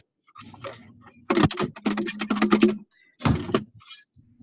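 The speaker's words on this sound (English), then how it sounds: "I'm sure everybody's typing in the chat." Someone types on a computer keyboard close by, with quick clattering bursts of keystrokes separated by short pauses and no talking.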